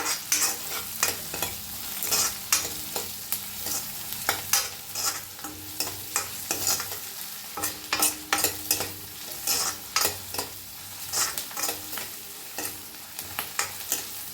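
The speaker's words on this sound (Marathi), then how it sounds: "थोडंसं मीठ टाकूया, कांदा भाजतोय लगेच." Onion fries with salt in a pan, a continuous sizzle cut by frequent rhythmic scraping stirs and spatula knocks, loud and close, running throughout with no one talking.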